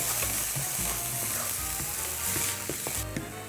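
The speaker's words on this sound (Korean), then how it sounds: "여기에 소고기, 다진 소고기 볶아줄게요" Minced beef sizzles loudly in a hot pan on an induction cooktop while a utensil scrapes and stirs it, with scattered clinks and no voices.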